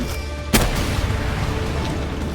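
A single loud gunshot blast from the Palworld video game during a fight with Jetragon, followed by a rumbling, ringing tail over continuous game background noise.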